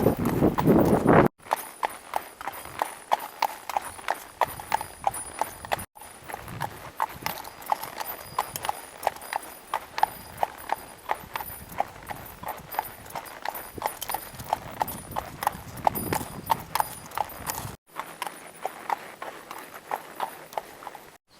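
Horses' hooves clop steadily on a steep, rocky mountain trail, a close rhythmic walking beat running throughout with brief gaps and faint voices now and then.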